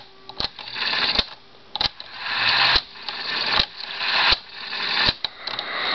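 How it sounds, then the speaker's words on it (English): A CANDLE JT-1107 cassette recorder shuttling its tape in fast forward and rewind, a steady loud whirring hiss broken by sharp clicks and clunks as the transport keys are pressed and released every second or so. "When they say fast forward rewind is fast, they mean it."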